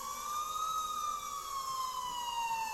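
Emergency sirens wail faintly in the distance in a short film, a single slowly falling tone over low background noise.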